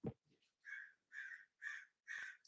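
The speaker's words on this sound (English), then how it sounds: "these crows are so loud" Crows caw outside, four loud harsh calls in a steady series after a brief low knock, each call about a third of a second and fairly close, with no talk over them.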